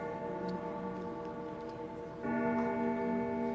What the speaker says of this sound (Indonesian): Ibu bapak kita dengar dentuman bel nggak?